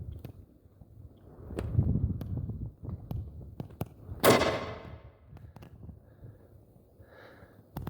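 A 6mm ARC rifle firing an 80 grain ELD-VT bullet outdoors goes off once as a sharp, loud crack with a brief rumbling tail, set against gusty wind and low background rumble.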